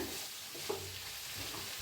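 Steady broadband sizzle with a few soft scraping stirs in a pot, one brief clink near the middle, no voices.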